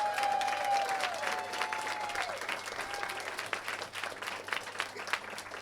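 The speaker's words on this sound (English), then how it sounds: "Can we please give them a round of applause?" An audience applauds candidates at a civic election event, steady sustained clapping from a crowd filling the room, with a faint tone fading early on.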